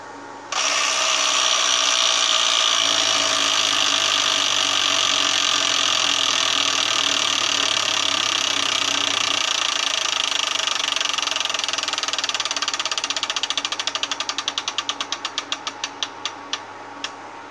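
An electronic Wheel of Fortune Deluxe tabletop game wheel spins with a loud, steady whirring buzz that runs for about thirteen seconds, then breaks into rapid clicks that slow and space out as the wheel coasts to a stop.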